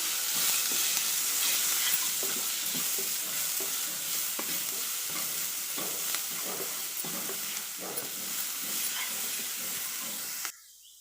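Garlic, green chili, curry leaves and onion sauté in a hot oiled pan for a carrot-beans poriyal, giving a constant close sizzle with scattered stirring scrapes and clicks, ending abruptly.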